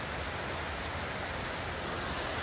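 Rain falls as a brief, steady broadband hiss, close and unbroken, with no voices.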